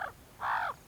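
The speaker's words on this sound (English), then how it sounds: "So too does a white-necked raven." A white-necked raven on the Serengeti gives two harsh caws, a short one followed by a longer, drawn-out call, fairly close and clear against quiet background.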